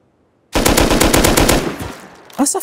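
Rapid automatic gunfire in the survival video game Rust, a loud sustained burst of fast shots lasting over a second, followed by a short pause and a few more sharp sounds.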